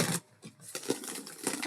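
A deck of tarot cards being shuffled by hand, soft, close riffling and flicking bursts in a few quick runs with short pauses between.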